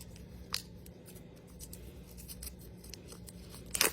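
Scissors snip open a teal Animal Jam treasure chest package, with a couple of short, sharp cuts close by over quiet room noise.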